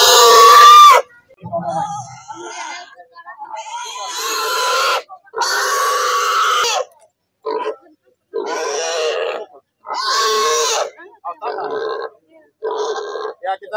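A pig at an outdoor campaign ceremony in a Papua village grunts and squeals in loud bursts through most of the stretch, mixed with people talking nearby.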